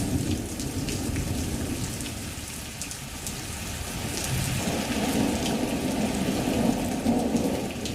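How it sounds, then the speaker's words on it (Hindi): Heavy monsoon rain pours steadily during flooding, a dense, continuous hiss that thickens partway through, with occasional deeper rumbles beneath, and no voices. "कई शहरों में भारी बारिश से बाढ़ जैसे हालात पैदा हुए हैं"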